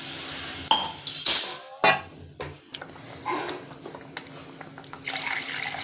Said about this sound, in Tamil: அந்த அரிசி வச்ச டம்ளரில் ரெண்டே கால் டம்ளர் தண்ணி விடுவோம்